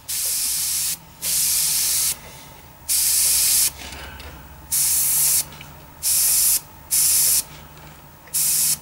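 Short bursts of hissing airbrush paint spray, about eight of them, each lasting around a second with brief quiet gaps between, close and fairly loud.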